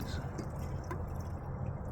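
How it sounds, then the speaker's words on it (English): Gasoline trickles and splashes steadily into the fuel tank of an X18 pocket bike, a continuous, close liquid pour with a soft, noisy wash throughout. "I hate pouring gas."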